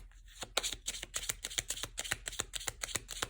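Tarot cards being shuffled and drawn, a quick steady run of crisp riffling flicks, close and fairly soft, with no talking.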